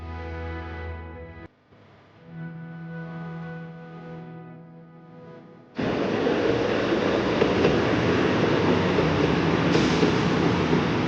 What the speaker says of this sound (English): I'm back on the train heading to Kumano Station.